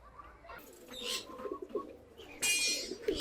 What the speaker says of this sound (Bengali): বেশ কিছু কবুতর কিন্তু চলে আসছে অলরেডি